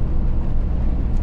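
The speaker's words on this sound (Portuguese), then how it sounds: "Aí, ó, só veio caminhão de eucalipto, ó." A truck loaded with eucalyptus wood rolls past on a road through eucalyptus plantations, a loud, steady low rumble of engine and tyres up close, with no speech.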